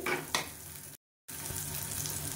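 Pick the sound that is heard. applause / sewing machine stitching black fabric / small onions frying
small onions frying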